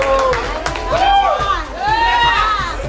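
A crowd at an evening event cheers and whoops in a loud, lively roar, with rhythmic thumping underneath and voices mixed in.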